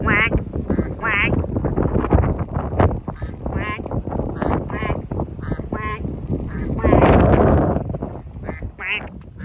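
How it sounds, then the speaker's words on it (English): A duck with a broken leg quacks repeatedly in short, nasal bursts close by, while a voice talks over much of the racket. "Honk, quack, quack, quack, quack."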